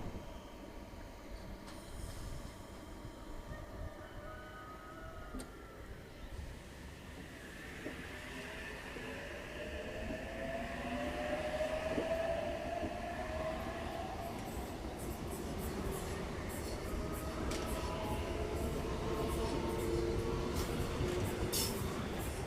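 An 8-car Sydney Trains Oscar intercity electric train on a Newcastle service at Hawkesbury River station, with steady rolling rumble, wheel squeal and rising tonal motor whine as it moves off, growing louder over the length of the clip.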